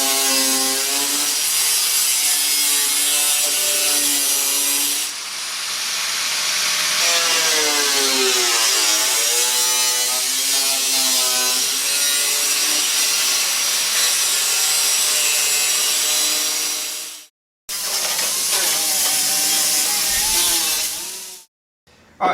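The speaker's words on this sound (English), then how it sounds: "we've gone in, we've cut out our holes for our louvers here" A power tool cuts louver holes into a Jeep Cherokee hood, giving a sustained harsh, rasping whine with shifting pitch. It runs in long passes broken by two short pauses.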